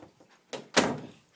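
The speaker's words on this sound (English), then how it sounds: "Gotta close the door." A door swings shut indoors with a soft bump followed by a heavier thud, two quick impacts close by and no voices.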